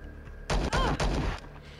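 Pistol gunfire in the Star Traders: Frontiers game rings out as three quick, loud shots in a row, each with a short metallic ring.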